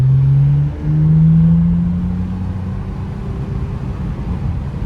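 Lexus ES350 engine pulling on a spirited drive, a steady close-up drone with a rising tone early on, then continuous road and engine roar for the rest of the stretch.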